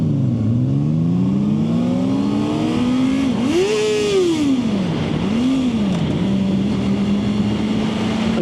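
A Honda CB650R motorcycle accelerates through its gears. The engine note climbs steadily, dips at each shift and climbs again, with a whine under constant wind and road noise.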